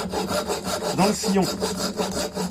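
A hand saw cuts steadily through wood in a close, continuous rasping rhythm of back-and-forth strokes, with a brief voice near the middle.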